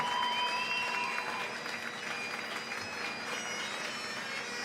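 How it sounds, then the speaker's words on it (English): An ice hockey arena crowd applauds the bronze medalists at the 2025 IIHF Women's World Championship, a broad, fairly distant roar of clapping that stays even throughout, with faint tonal sounds drifting over it. "Here come JB with a massive round of applause for the bronze medal."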